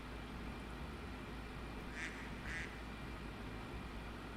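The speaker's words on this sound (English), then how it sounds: "It's the duck of doom." Two faint duck quacks in the Townsmen video game, spaced about half a second apart, barely above a steady low rumble of background noise.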